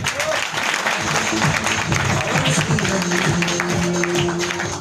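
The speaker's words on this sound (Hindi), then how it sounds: "ताली बजा दीजिए इन लोगों के लिए" A room of people at a meeting applauds to welcome new members, brisk continuous clapping with some voices underneath, close and fairly loud throughout.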